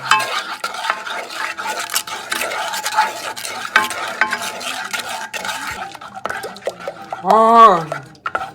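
A spoon stirs gummy bear mixture in a pot over medium heat, making a steady scraping and swishing that runs close and continuous; a voice speaks over it and a brief tonal squeal breaks in near the end.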